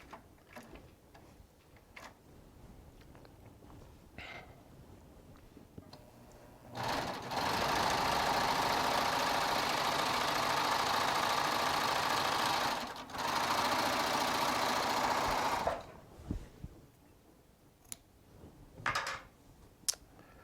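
A Baby Lock serger running a wide double cover stitch with Japanese Cosmo Hidamari sashiko thread in the loopers: a loud, steady mechanical whir for about nine seconds with a brief dip midway, framed by quiet handling clicks before and after.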